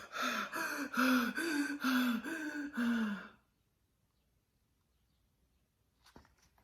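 A voice gives a series of six heavy, rhythmic panting breaths, harsh and close, imitating a beast, then silence with a faint rustle at the end.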